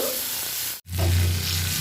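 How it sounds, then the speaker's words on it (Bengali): Katla fish fat frying in mustard oil in a kadhai with dried red chillies and panch phoron, a steady close sizzle broken by a brief dip before it swells louder, no voices. "মাছের তেলটাকে ভালো করে ভেজে নিব।"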